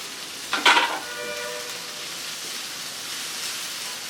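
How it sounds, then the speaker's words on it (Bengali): Spring onion greens frying in a pan for a Korean-style egg dish, giving a soft steady sizzle with a brief louder burst of crackle early on as the greens go in, then an even hiss throughout. "এখন পেঁয়াজ পাতাগুলো দিয়ে আমি একটু মিনিট খানেক ভেজে নিব"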